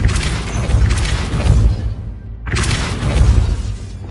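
Repulsor spell effect in Hogwarts Legacy: two loud, broad whooshing blasts with booming low rumble, separated by a brief dip in sound.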